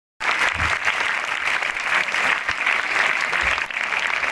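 A school audience at an Independence Day cultural program claps steadily and loudly, sustained applause filling the whole stretch without pause.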